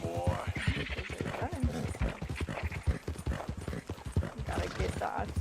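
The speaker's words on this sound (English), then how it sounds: "This horse sounds like it has asthma. Why is it breathing so heavily?" Clip-clop of horse hooves in a steady rhythm with heavy breathing and an occasional whinny from a horse in Red Dead Redemption II, close and prominent, with people talking over it.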